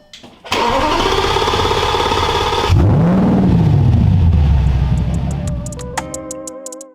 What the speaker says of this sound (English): We could tease a clip of the muffler, like exhaust.